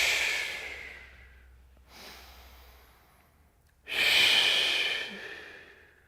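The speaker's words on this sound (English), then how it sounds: "Take a big breath in as you exhale." Slow, deep breaths during a seated shoulder-opening stretch in a weightlifting workout: a loud breathy inhale, a fainter breath around the middle, then a strong, long exhale, with no talking.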